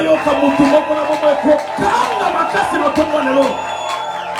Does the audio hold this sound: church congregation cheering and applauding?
yes